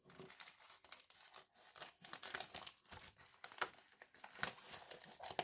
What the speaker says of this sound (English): That's a big envelope. Let's cut it open.